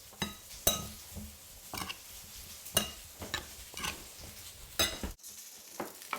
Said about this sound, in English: So pour some of the dressing over and give it a good toss.